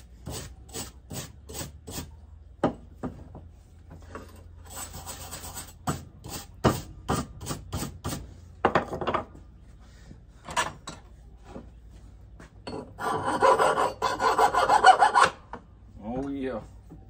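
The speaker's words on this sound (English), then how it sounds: "now I'm gonna go back in the grinder with it." Grinder working on a project piece in a shop, heard in several bursts: a string of short rasping strokes, then longer gritty grinding runs, loud and close, with no talking.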